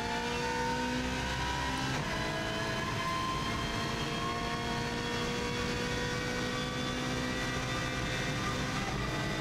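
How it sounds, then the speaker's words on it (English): Race car accelerating hard on a mountain road time-trial lap, engine roaring loud and continuous with rising pitch as speed climbs, heard from onboard with no talk. "You can see how much quicker this car accelerates from the 120 right the way through to 170."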